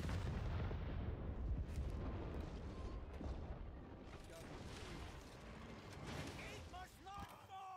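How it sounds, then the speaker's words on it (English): Splitting wyvern shot fired in Monster Hunter Rise Sunbreak, a heavy booming artillery-like blast with rumbling low explosions that fade out, while voices talk over the game audio. "I've got the splitting wyvern shot"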